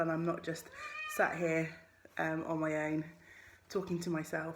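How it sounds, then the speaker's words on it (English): A domestic cat meows a few times in a home on a Monday morning while she wanders about wanting to go out. The meows sit faintly beneath a person talking continuously nearby. "my cat's wandering around meowing because she wants to go out"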